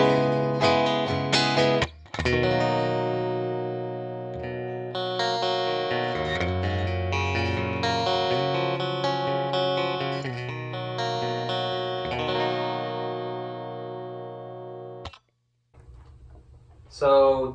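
Electric guitar played through a 1975 Fender Silverface Champ amp with bass and treble at 10, loud sustained chords and notes with a brief break, ringing out before stopping near the end.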